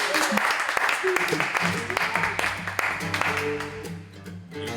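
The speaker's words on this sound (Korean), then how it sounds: "자 여러분 박수" Applause during a casual music session, scattered clapping that gives way to tuned musical notes and sustained tones, moderately loud with voices mixed in.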